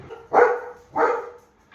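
Two pet dogs bark inside a house, giving two sharp, close barks about half a second apart, with quiet gaps in between.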